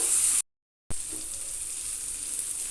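Chopped tomato sizzles in a pan with egg bhurji, a steady close hiss broken by a brief gap of silence before the frying resumes, with no talking.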